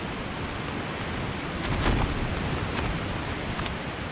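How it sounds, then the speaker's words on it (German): Strong storm wind blowing outside at night on the GR221 dry-stone trail in Mallorca, a steady broadband roar with brief louder gusts, no voices. "es stürmt ganz schön da draußen"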